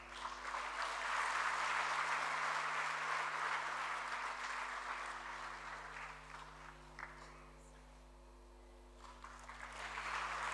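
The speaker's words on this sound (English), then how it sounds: "Please keep the applause going" An audience applauds at a corporate responsibility awards ceremony, a broad, moderately distant clapping that swells, fades to near quiet, then begins rising again, with a steady electrical hum underneath.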